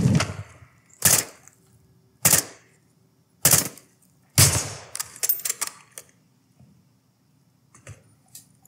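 Gunfire in Call of Duty: Modern Warfare 2: five loud, sharp single shots about a second apart, followed by a quieter burst of scattered clattering impacts that fades out.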